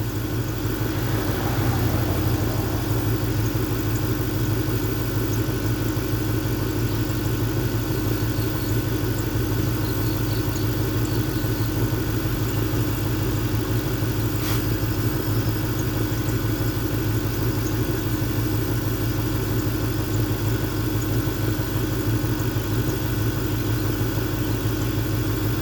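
A 1998 Ford Mustang GT engine idles steadily and continuously for the whole stretch, a low, even rumble with no revving and no voices.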